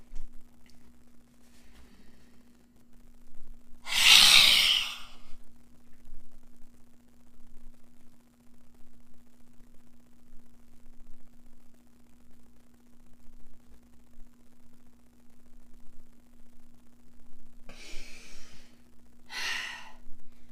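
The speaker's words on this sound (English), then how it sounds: "You're going to inhale." Deep breaths during a breathing exercise: one strong, breathy inhale stands out near the start, followed by two fainter breaths much later, with quiet hum between and no talking.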